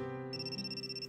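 An electronic telephone ring from the video game Amnesia sounds as a steady, bright, sustained tone, close and clear with no talking.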